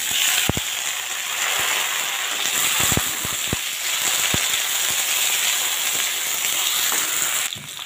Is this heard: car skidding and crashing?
no